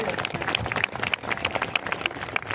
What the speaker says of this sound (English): Parents, big clap for them, and students, you also can clap for your teachers.